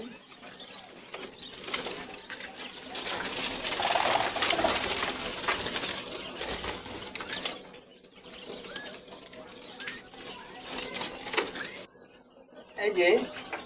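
A spotted dove coos outdoors among other bird sounds and a burst of wing flapping, a person talking intermittently over them.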